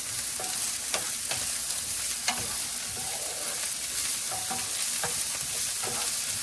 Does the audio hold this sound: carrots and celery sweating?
yes